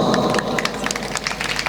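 Applause from the audience at a Marathi poetry gathering in Ambajogai, a loud burst of dense clapping with scattered sharp claps, close and without speech.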